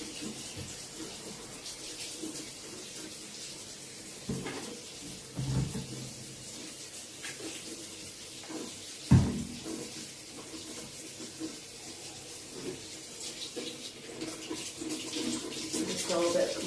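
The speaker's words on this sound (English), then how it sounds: "Let's turn on the hot water." Hot water runs from a tap during a holiday-rental cleaning session, a steady soft rush of flowing water with a few brief clunks and taps along the way.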